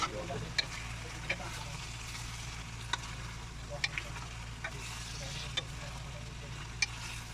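Whole spices—cloves, black pepper, cinnamon and bay leaf—hit hot oil for a chicken pulao, giving a steady close sizzle with a few sharp ticks and pops scattered through, under a constant low hum.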